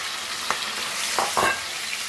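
Prawns frying in a pan for Goan prawn masala, a soft hissing sizzle with a few brief scrapes of stirring.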